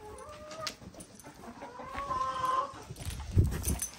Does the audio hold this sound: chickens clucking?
yes